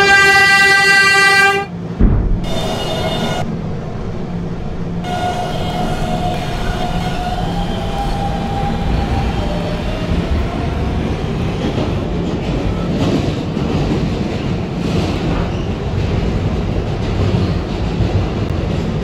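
A local subway train in a Roblox game runs along the track with a steady rumbling roll after a brief tonal chime and a door-closing burst, a long high whine rising and falling over the continuous rail noise.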